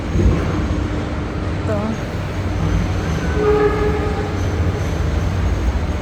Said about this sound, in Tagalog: Ito ang train.